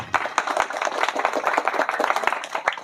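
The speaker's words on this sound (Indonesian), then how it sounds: "Tepuk tangan dulu." An audience claps hands at an Indonesian talk about pencak silat, with dense, uneven claps filling the whole stretch at steady loudness.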